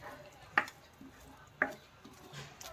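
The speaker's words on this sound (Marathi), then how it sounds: "अंडी टाकल्यानंतर फटाफट त्यात आपल्याला परतून घ्यायचं आहे फटाफट चमचा आपल्याला असा चालवत राहायचा आहे जेणेकरून ते कढाईला चिटकणार नाही" Spoon scraping scrambled eggs around a kadai, two distinct sharp scrapes over a quiet background, with faint clinks between.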